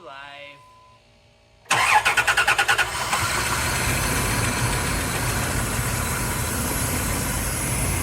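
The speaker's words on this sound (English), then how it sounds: "It was misfiring very badly whenever I cranked it" 2001 Dodge Dakota with a 3.9L V6 cranking and firing up, a rapid stuttering chug of misfires settling into a rough, shaking idle, loud and close, preceded by a few seconds of other sound.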